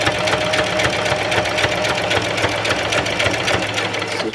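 A sewing machine stitches a fabric monstera leaf headband, its rapid mechanical needle chatter running loud and continuous at close range with no voices.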